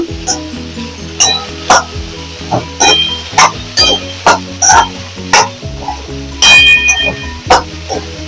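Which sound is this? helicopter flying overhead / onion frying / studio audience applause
onion frying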